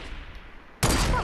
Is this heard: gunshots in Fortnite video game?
yes